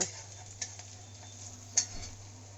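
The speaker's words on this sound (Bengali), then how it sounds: "তোমার পেঁয়াজ একটু হালকা লাল হয়ে আসলে আমি দিয়ে দিলাম জিরা" Cumin seeds go into onions frying in a pan for fried leftover rice, with a low steady sizzle, a few light ticks and a spoon clinking against the pan twice.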